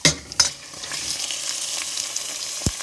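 Beef and dried plums go into a hot curry pot and fry, a bright continuous sizzle with a few clattering stirs and a low knock near the end, close up and without talk.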